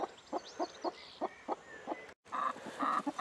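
A chicken clucks in short, evenly spaced bursts, followed by a louder stretch of busier clucking and fowl noise nearby.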